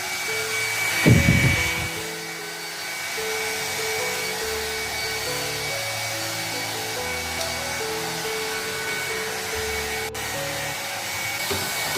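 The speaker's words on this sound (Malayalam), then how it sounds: "ഇനി ഞാൻ ഒരു പഴയ ഹെയർ ഡ്രയർ ഉണ്ട് എൻ്റെ കയ്യിൽ" A hair dryer whirs steadily at close range, a continuous blowing hum that runs throughout after a short clatter at the start.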